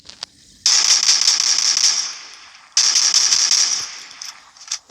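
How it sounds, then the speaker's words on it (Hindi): An AK rifle fires at long range in a video game in two sustained bursts of rapid automatic fire, each lasting about two seconds with a brief pause between. The shots are loud and close, with faint clicks around them. "अभी मैं AK को चलाने वाला हूँ ये प्लेयर के ऊपर, वो भी लॉन्ग रेंज से"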